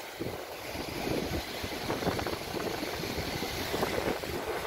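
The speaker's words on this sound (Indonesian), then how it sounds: "angin sudah mulai sore." Afternoon wind at sea over a reef, a steady broad roar of gusts buffeting the microphone with wash of waves underneath, continuous and fairly loud, no voices.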